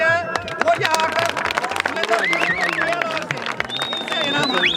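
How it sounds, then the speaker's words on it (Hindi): A crowd at a horse riding competition prize-giving in Ghodyan, Gundna, bursts into continuous applause and clapping for a second-place winner, with voices and crowd chatter mixed throughout. "इनके लिए जोरदार तालियां।"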